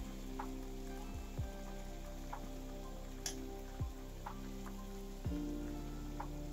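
Ghewar batter poured into a pan of hot frying fat gives a steady bubbling sizzle, with a few louder splashy surges as each new pour hits the oil.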